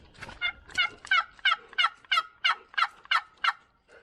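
A nearly 40-year-old turkey call imitates gobbling in a quick series of about ten sharp, evenly spaced rattling yelps, close and clear with no talking.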